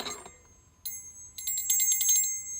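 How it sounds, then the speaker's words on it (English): A small, bright bell tinkles, first with a single ding and then a quick run of rapid rings, fairly close and clear. "there was also a bell, a Tinkerbell bell"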